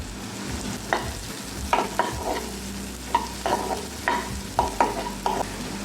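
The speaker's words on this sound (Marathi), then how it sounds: "इथे बारीक चिरलेला कांदा टाकून घेतलेला आहे" Finely chopped onion and green chili fry in a pot for corn soup, a soft steady sizzle broken by about a dozen clattering spoon strokes against the pan, close and rhythmic, with no voices.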